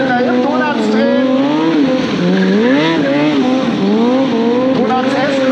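A stunt motorcycle spinning donuts in a tight space at the Kawasaki Days show in Speyer, its engine wailing and rising and falling in pitch with tire squeal, loud and continuous.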